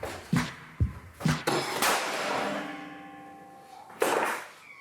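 A few sharp metallic hammer strikes, one setting off a blank cartridge with a loud bang and a long ringing tail, then another hard hit.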